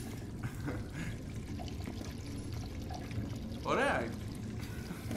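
Tap water runs steadily in the horror game Devotion, a low continuous pouring hiss beneath someone speaking Greek, who briefly talks over it near the end.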